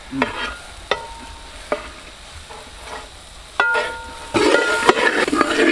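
Chilli powder masala sautéed in a pan for beef head roast, with sharp spatula clicks at intervals over a low sizzle that grows into louder, denser frying near the end.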